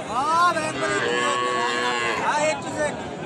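Cattle at a busy rural livestock market low and moo close by, several drawn-out bellows layered over one another against a dense background of crowd murmur.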